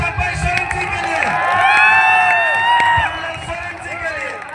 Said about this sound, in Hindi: जोरदार तालियां आ जाए चंपाई सोरेन जी के लिए